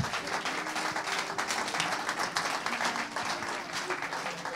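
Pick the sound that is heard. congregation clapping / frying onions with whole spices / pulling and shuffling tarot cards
congregation clapping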